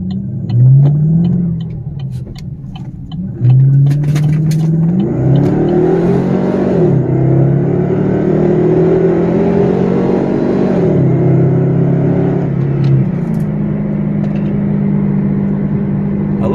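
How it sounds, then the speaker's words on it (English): 2015 Chevy Caprice V8 revving up close: a deep, loud rumbling idle rising into repeated throttle blips and a sustained higher rev that falls back to a steady growl, with no voices. "I love this Caprice. It sounds great."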